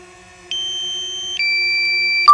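Sustained electronic beeping tones from a DJI Mavic Mini drone, shifting pitch a couple of times with brief chirps, clear and close.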